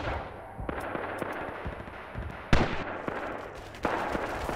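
Type 99 sniper rifle fire in the video game Rising Storm: Iwo Jima, a few sharp cracks spaced over a few seconds, including one loud near shot, over a busy battlefield din of distant gunfire.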